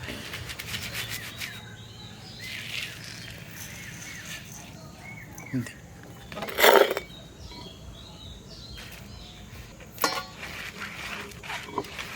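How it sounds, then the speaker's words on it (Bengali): Rice grains are shaken in a tray, making a soft, continuous rustle and scrape with a few sharper rattling swishes. The sound is fairly quiet and close, and faint outdoor sounds sit in the background. "আমি এখন এই চালটাকে ঝাঁকিয়ে নিচ্ছি"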